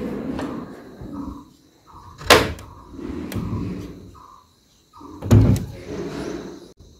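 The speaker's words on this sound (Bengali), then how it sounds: "এইদিকে তোমাদের খুলে দেখাচ্ছি জানলাটা।" A window in a hillside homestay room in Sittong is opened: a few sharp knocks and sliding rattles of the frame, with soft thuds between them, close and alone.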